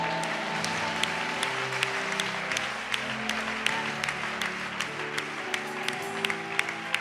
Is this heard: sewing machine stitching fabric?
no